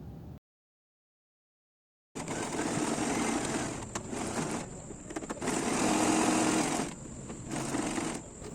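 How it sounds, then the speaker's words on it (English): A sewing machine stitching a buttonhole for a second, thicker pass runs in steady close-up whirring bursts after a brief silence, pausing and restarting a few times. "So after sewing the buttonhole for the first time, I decided to go again for a second round to make it more thicker."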